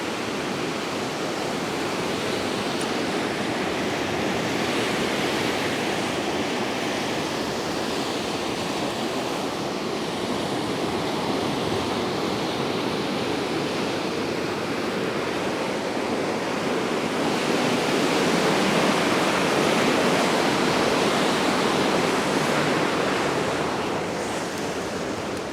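Waves roar and wash steadily at the seafront after Storm Dennis, with brown, churned-up water, as a loud unbroken surf noise that swells slightly near the end, mixed with wind buffeting the microphone.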